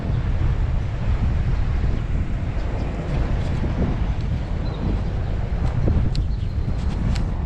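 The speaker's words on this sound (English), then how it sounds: "we're about to fight that wind" Wind roars loudly and continuously across the microphone on a cold bicycle ride in Gainesville, Texas, a heavy low rumble with gusty surges and no break.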